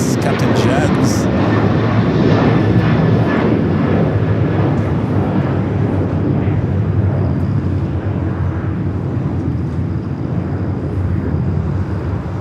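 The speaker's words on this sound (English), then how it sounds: "Cargo Lux. 25 left, takeoff." A Cargolux cargo jet takes off from runway 25 left at LAX, a loud, steady, broadband engine roar that holds for the whole stretch and eases slightly near the end, with voices talking over it.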